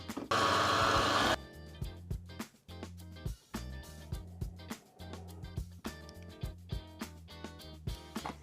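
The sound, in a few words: stand mixer whipping qamar al-din apricot cream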